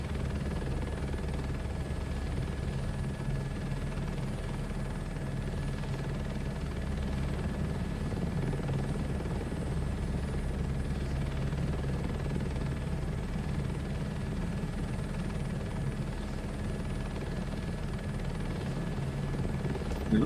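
A crop duster plane in VR Microsoft Flight Simulator 2024 takes off from runway 12, its engine a loud, steady drone that holds without a break from start to finish.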